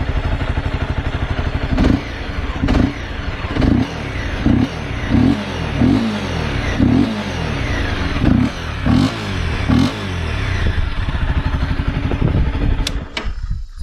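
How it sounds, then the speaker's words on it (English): A Honda CBR250R motorcycle engine with stock exhaust and the intake snorkel removed revs repeatedly in short, evenly spaced bursts over a rumbling idle, close and loud, with a slightly throaty tone. "So it has got a little bit of throaty sound with that snorkel out."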